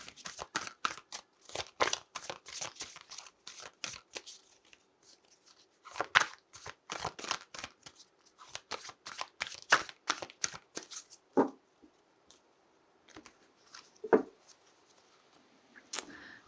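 Tarot cards being shuffled in quick, close bursts of soft riffling and flicking, with short pauses between rounds and a few isolated taps near the end, no voices.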